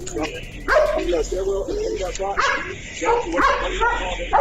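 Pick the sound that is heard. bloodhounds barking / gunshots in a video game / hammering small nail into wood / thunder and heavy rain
bloodhounds barking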